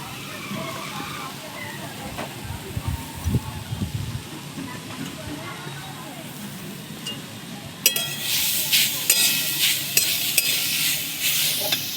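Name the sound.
grated coconut stirred in a hot wok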